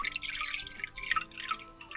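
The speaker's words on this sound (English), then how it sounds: "First we'll fill the water." Water pours into a container for a preschool sink-or-float experiment, a steady splashing trickle with dripping, close and moderately loud, with no talking.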